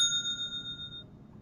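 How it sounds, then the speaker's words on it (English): A single bright bicycle-style bell ding rings out clearly and fades over about a second, alone with no talk. "Love the bell."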